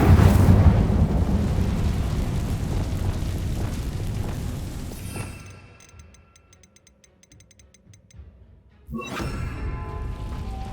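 Magical spell blasts from the Hogwarts Legacy video game, Bombarda and Incendio: loud booming, rumbling explosions with dense crackle that fade into near silence, then a fresh burst of blast noise near the end. No talking.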